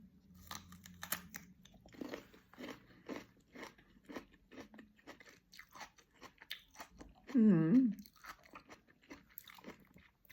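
A crunchy, sour apple is bitten and chewed close up in a run of crisp, regular crunches, with a brief voiced sound partway through.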